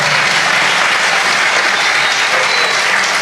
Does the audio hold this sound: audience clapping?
yes